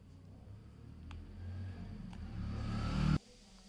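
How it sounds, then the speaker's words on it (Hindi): Car engine starting and revving, the sound rising gradually from faint to louder over a few seconds before cutting off abruptly, heard alone without talk. "इंजन जो है वो चालू किया।"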